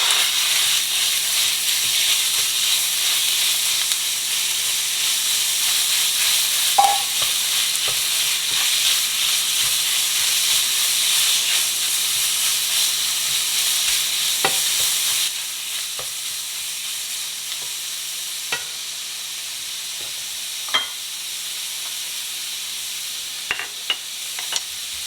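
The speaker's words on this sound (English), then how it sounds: "I am going to put the chorizo in. I'll put a little bit of oil in it and make it" Chorizo fries in hot oil in a pan with a steady, continuous sizzle and hiss, a few light clicks of stirring, easing slightly quieter partway through with no talking.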